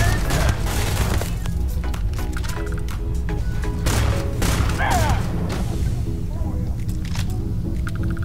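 The Power Beat weapon in Starfield fires rapid repeated shots amid booming impacts and mechanical clatter, loud and dense across the whole stretch with no pause.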